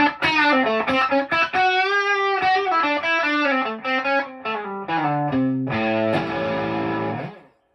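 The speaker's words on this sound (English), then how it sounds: "I'm going to feed a distortion to it to get a really big lead sound" Electric guitar lead run through a filter feeding distortion, a loud, thick, sustained melodic line of bent and held notes, ending on a ringing chord that fades out.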